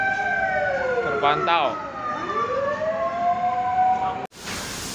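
A fire engine's wailing siren sweeps up and down nearby during a market fire, with a brief burst of horn-like tones, while someone speaks briefly over it before an abrupt cut.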